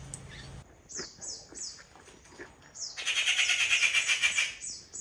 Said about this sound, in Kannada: ಅದೇ ಹಕ್ಕಿ ನೋಡಿ ಈಗ ಕೂಗಿತಲ್ಲ